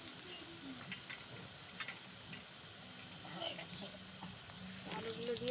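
Potatoes frying in a pan, giving a steady, moderately quiet sizzle throughout with faint clinks and a voice speaking in the background.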